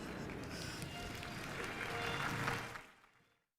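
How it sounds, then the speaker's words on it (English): Audience applause at a University of Salford winter graduation ceremony for the School of Health and Society, steady clapping from a large crowd that swells slightly, then fades out to silence. "You can clap."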